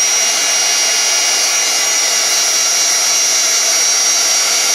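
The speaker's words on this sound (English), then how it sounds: "Then you can hit this with your heat gun." Heat gun blowing hard over crackle paint made of acrylic paint and glue, a loud, close, unbroken whooshing hiss with a steady whine that holds level throughout, with no talk.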